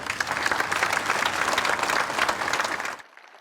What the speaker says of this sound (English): Their bravery applauded